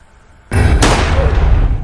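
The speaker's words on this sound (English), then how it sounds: "I literally shot you!" A sudden loud blast of gunfire in a Roblox game bursts in after a quiet moment and holds as a dense, roaring wash, close and overpowering, with no talk.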